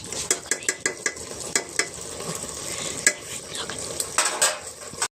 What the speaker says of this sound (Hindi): देखिए दोस्तों मटन भुजा रहा है, बकरे का मटन है